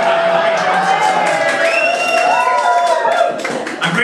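The audience at a comedy gig in Letterkenny claps and cheers, dense applause with whoops and voices carrying through, loud and sustained throughout.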